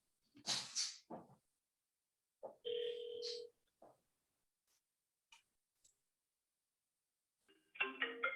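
A phone call to a home number gives a few short electronic ringback tones and beeps, separated by silence, with faint clicks and a brief dialing-like flurry of tones at the end.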